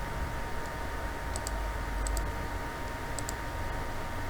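Computer mouse clicking at a desk while mapping buildings in GIS software, a few faint sharp clicks, some in quick pairs, spread over a steady low hum.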